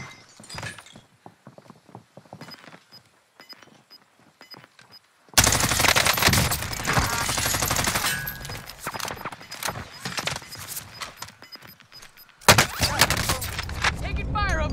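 A video game firefight brings bursts of rapid gunfire, quieter scattered shots at first, then loud, dense sustained volleys, close and intense, with brief pauses between bursts.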